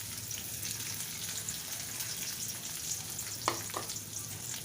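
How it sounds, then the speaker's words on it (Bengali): Onion and whole garlic frying in oil in a wok, a faint, steady sizzle with a couple of brief scraping stirs near the end and no talking. "তেল দিয়ে এটাকে ভালোভাবে একটু ভেজে নিব।"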